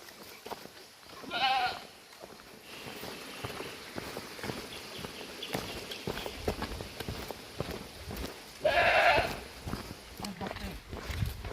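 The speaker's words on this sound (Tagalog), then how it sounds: "Umiyak yung kambing natin." A goat on a farm near a hut bleats twice, loud and drawn out, amid footsteps, shuffling and people talking nearby.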